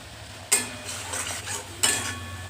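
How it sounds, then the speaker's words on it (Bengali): Spice masala with turmeric being fried and stirred in a pan: close scraping strokes of a spatula in two bursts over a low sizzle. "দিয়ে আমি ভালো করে মশলাটাকে কষিয়ে নিচ্ছি"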